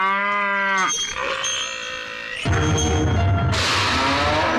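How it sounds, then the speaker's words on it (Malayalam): A Jersey cow moos loudly and close by in a single drawn-out call lasting about a second, followed by barn ambience and then a sustained harsh, noisy sound. "ഇവൾ നന്ദി ഇനം ജേഴ്സിയാ നല്ല അടക്കം ഒതുക്കം ഉള്ളവളാ"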